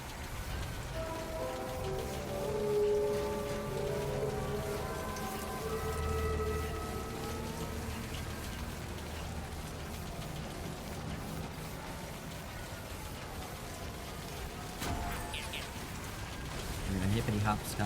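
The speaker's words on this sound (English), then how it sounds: "it is in fact raining" Rain falls steadily throughout in a game setting, a soft continuous patter under a layered musical score, with a brief louder burst near the end.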